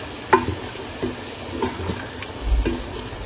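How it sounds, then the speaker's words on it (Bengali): Boiled bean seeds stir-fried with spices in a pan: a soft continuous sizzle broken by four or five distinct spatula scrapes, close and unhurried, with no talking. "সিমের বীজটা অল্প করে কষাই নিব"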